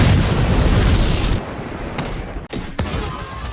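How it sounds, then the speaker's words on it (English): A heavy, rumbling explosion blast from the video game Division 2 fills the first second and a half, followed by a few sharp booming impacts and crackling debris. "Explosions?"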